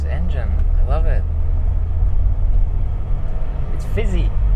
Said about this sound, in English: Oh, this engine, I love it.